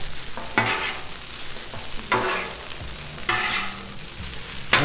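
Shrimp fried rice stirred on a Blackstone griddle, with a few broad scraping sweeps of a spatula across the hot flat top over a steady background sizzle, close by with no talk.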